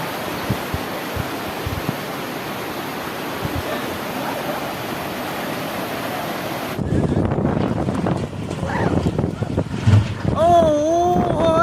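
A heavy rainstorm with strong wind lashes Kutch, Gujarat, a loud continuous roar of rain and gusts buffeting the microphone, shifting partway through to a nearer, rougher wind-and-rain rush with faint voices underneath.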